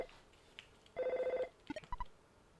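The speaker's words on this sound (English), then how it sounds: "Is the phone ringing? Like a mobile?" Ringing telephone in the video game EarthBound, sounding as a bright burst of rapid electronic trilling rings, followed by a few short blips and soft tones, with no voices.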